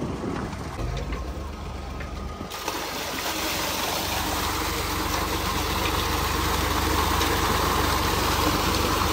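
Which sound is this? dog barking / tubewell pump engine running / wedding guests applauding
tubewell pump engine running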